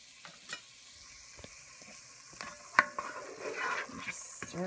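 A spoon stirs broccoli cheese soup in a pot, producing scattered soft scrapes and clinks with one sharper knock, over a quiet background and with no speech.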